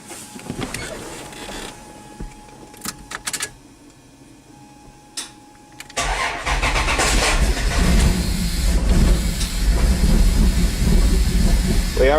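A Dodge Dakota 3.9 engine with a freshly installed Megasquirt fuel injection system cranks briefly, then catches and keeps running roughly, a loud steady engine drone filling the second half after a few short clicks and quieter moments.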